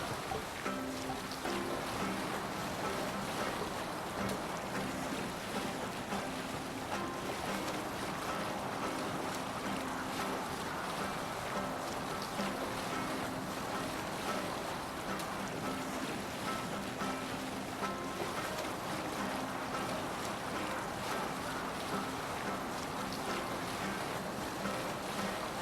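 Viking longship under sail in Assassin's Creed Valhalla, with a steady, dense wash of waves and rushing water against the hull and wind noise holding at an even, loud level throughout without pause.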